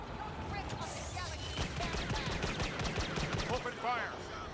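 Rapid, repeated gunfire crackles in a Star Wars video game battle, moderately loud bursts mixed with busy game noise while players talk over it.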